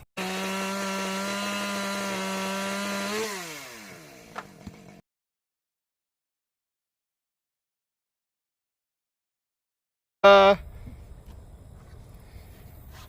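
A chainsaw cutting wooden posts on a smoke shack build whines at a steady high pitch, then its pitch drops as it slows and stops; after a long silence it roars briefly again and idles.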